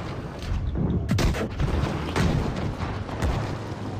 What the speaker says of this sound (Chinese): 队友开枪了。